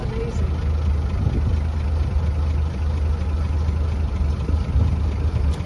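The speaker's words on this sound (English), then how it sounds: "Listen to that engine purr." A 1920s Rolls Royce Springfield Ghost engine idling after start-up, a steady low rumble that runs evenly and continuously, fairly close, with no talking over it.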